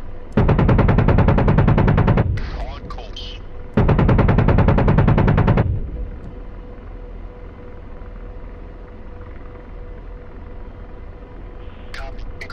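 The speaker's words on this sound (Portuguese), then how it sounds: "Olha lá, atirou, atirou." Two long bursts of rapid automatic cannon fire from an AH-64D Apache in the DCS flight simulator, loud and close, separated by a short pause, with engine rumble continuing underneath afterward.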